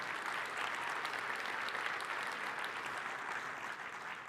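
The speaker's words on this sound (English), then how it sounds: "So give yourselves a round of applause for your continued success." Conference audience at a construction industry event giving a sustained round of applause, dense and even clapping that holds steady before easing slightly toward the end.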